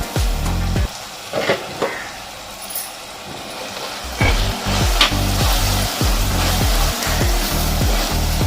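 Tomato pieces and green chilies frying in a pan, with a steady sizzle and repeated scraping stirs, loud and close, with rhythmic stroking in the second half.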